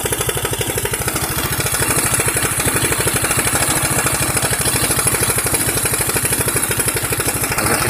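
Honda Beat 100 cc scooter with an AT110 carburetor and no air filter idles steadily close by, a continuous rapid mechanical putter with a fine, even firing rhythm throughout.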